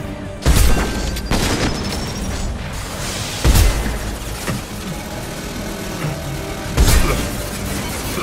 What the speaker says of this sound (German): Okay, der erste ist down. Es wird explodieren.